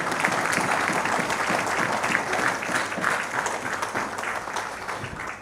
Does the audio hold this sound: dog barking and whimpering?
no